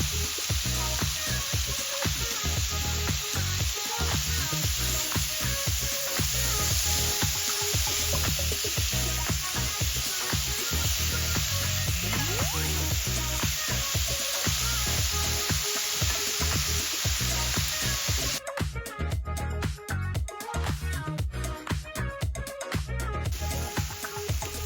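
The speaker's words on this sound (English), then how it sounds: "There's your apples. They'll be slowly cooking there for about 5-6 minutes." Sliced apples with a splash of vanilla essence cook slowly in a pan, giving a steady, close sizzle that carries on without a break. An occasional stir is heard and there is no talk.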